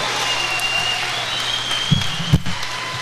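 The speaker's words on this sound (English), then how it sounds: "give the applause for Ireland's Duffy" A crowd applauds at an amateur boxing dual international between Scotland and Ireland, a moderate scattered clapping with a couple of sharp thumps near the end.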